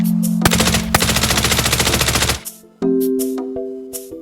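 Suppressed assault rifle in the shooter game Arena Breakout: a long rapid-fire burst of dense, even rattling shots, then a pause and a few scattered single reports over a steady humming tone, loud and close with no talk.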